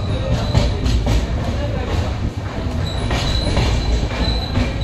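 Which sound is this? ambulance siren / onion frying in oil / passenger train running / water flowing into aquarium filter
passenger train running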